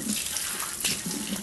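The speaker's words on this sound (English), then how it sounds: "Just let it run under the water until it gets good and wet." Tap water runs over a 100% cotton scrub cloth in a sink, a steady close splashing and gurgling stream that shifts slightly as the cloth is moved under it.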